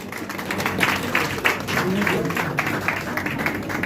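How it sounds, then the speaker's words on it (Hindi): An audience claps steadily to welcome a guest speaker at an event, a dense, even patter of many hands continuing throughout at moderate loudness. "जोरदार तालियों से वेलकम करेंगे हम आज के अपने विशिष्ट अतिथि"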